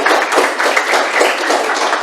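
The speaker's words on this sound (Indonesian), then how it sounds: "Kelompok 1 kita berikan aplaus untuk kelompok 1." A classroom applauds a student group, with dense, steady clapping from many hands filling the whole stretch at even loudness and no pauses.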